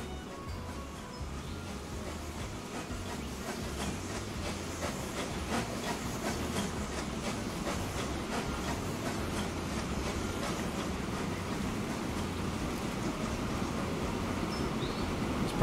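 A locomotive hauling hopper wagons in Transport Fever runs at a steady pace, a continuous low rumble with faint rhythmic clatter and hiss, moderately distant and unbroken throughout.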